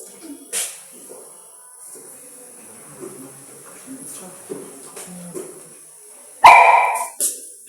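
A sharp, loud pop of hydrogen gas being lit bursts out near the end, preceded by soft rustling and faint voices in the background, in a laboratory.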